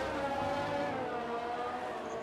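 Formula 1 race cars in the F1 2018 video game at the Abu Dhabi Grand Prix, a steady high engine whine held at constant loudness for the whole stretch, with no talk over it.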